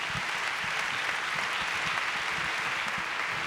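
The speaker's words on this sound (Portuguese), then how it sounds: "Dá uma salva de palmas a Jesus." A large church worship audience claps continuously and evenly, a thick sustained wash of applause filling the room with no talking over it.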